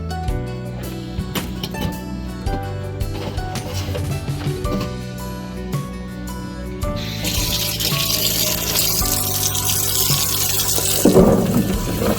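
Tap water runs and splashes over vegetables being washed in a sink, a steady rushing stream that starts partway through under continuous background music.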